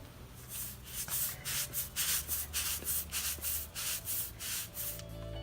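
Brisk back-and-forth scrubbing of an oil stain on a driveway with dish detergent, roughly ten rough, rhythmic strokes in a row, close and fairly loud with no voices.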